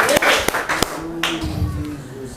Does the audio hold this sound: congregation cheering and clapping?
yes